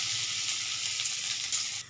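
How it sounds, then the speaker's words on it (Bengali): Ghugni ingredients frying in hot mustard oil give a steady, close sizzle and crackle throughout, with a brief louder pop near the end. "এটা তো ভাজা চলছে"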